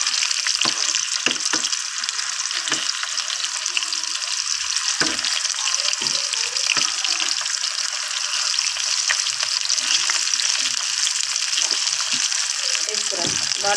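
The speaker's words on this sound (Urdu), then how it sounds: "اس طرح ٹماٹر کو بھی ہلکا سا فرائی کر لیں گے" Round tomato slices fry in a pan for an egg and potato paratha, a loud continuous hissing sizzle running throughout with occasional crackles and faint low knocks.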